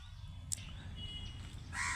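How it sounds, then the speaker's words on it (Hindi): Birds call in a quiet forest setting with a few short, bright chirps and a brief harsher crow-like caw near the end, moderately faint over a low steady background. "पक्षी अपने कलरव कर रहे थे, चिड़िया चहक रही थी"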